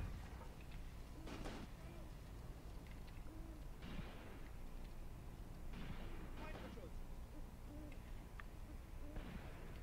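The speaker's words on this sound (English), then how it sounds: "Do they have a mortar team directly next to my guys?" Mortar fire in the wartime strategy game Graviteam Tactics lands as several distant, muffled bursts at uneven intervals over a low rumbling battlefield, with a faint voice murmuring underneath.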